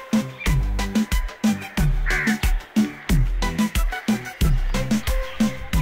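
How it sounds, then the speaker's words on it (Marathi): Crows caw in a garden, their loud harsh calls repeating in a steady run of rhythmic bursts close by, with faint background ambience between them. "सर्वीकडे म्हणजे पक्ष्यांचे खूप सारे आवाज एकदम छान"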